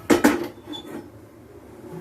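A heated cast-iron dosa tawa set onto a stove with two sharp metallic clanks close by, followed by faint scraping and quiet kitchen room tone.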